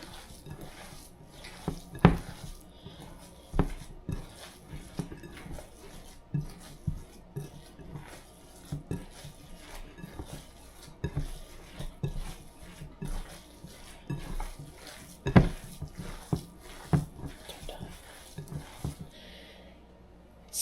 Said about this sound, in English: So I'm just going to mix all of that in and give it a very thorough mix with my hands.